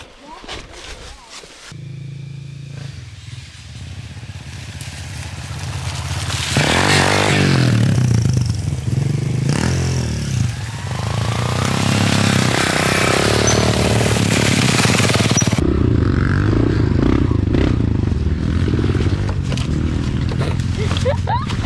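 A kid on a 250 dirt bike lets the engine bog and stall, then the bike lurches and crashes into a tree. Loud scraping and clattering bursts sit over rough engine noise, with voices talking close by.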